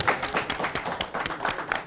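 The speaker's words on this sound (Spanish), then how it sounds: "¡Un aplauso para ellos!" Scattered applause from a small audience on a Dominican talk show set, loose irregular claps fairly close and moderately loud, with no voices over them.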